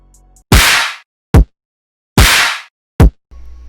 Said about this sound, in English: kick and clap. Sounds like this.